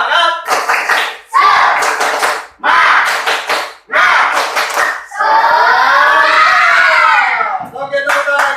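A school class claps a rhythmic spirit clap in several loud bursts of group clapping separated by short pauses, followed by the children chanting and shouting together up close.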